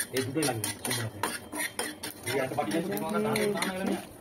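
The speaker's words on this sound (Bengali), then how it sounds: "আর সোমবুড়া দিয়ে দিলাম 1 চামচ, শুকনো খোলায় ভেজে নিচ্ছি" Dried red chillies and a spoonful of spices dry roasting in a pan, with spoon scraping and clinking against the metal in repeated strokes, close and moderately loud, with some voice-like tones underneath.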